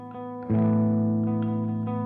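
A sustained electric guitar add 9 chord rings out, struck once and left to decay, with a light effected, chorus-like shimmer; no voices.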